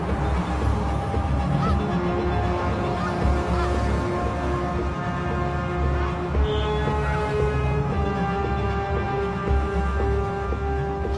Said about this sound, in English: snow geese have also felt the cold winds blowing and start to head south.